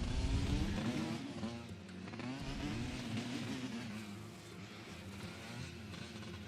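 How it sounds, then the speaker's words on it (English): A motorbike engine in the video game DayZ runs with a steady droning hum and gentle rises in revs, fairly quiet and continuous throughout. "As you can see with the motorbike noises, they're just kind of general noises at the moment."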